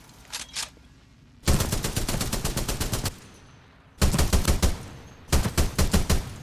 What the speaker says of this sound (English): Dude, the gunshot sounds are so good in this.